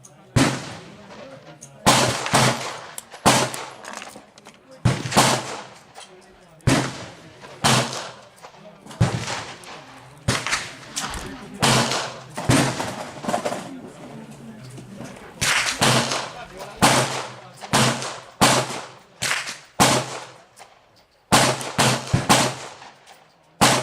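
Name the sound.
Smith & Wesson 686 revolver firing .38 Special short loads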